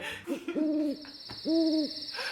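Two clear owl hoots, each a drawn-out hollow call, separated by a short pause against a quiet background.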